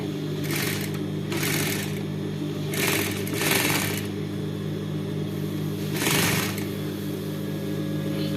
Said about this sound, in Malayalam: ഈ അരിഗ് ഭാഗത്തൂടെ സ്റ്റിച്ച് ചെയ്ത് കൊടുക്കുക